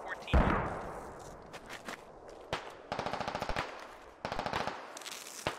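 Heavy machine gun fire in the video game Squad: rapid sustained bursts of automatic fire, a couple of long rattling strings separated by pauses, with a single louder shot early on, moderately distant.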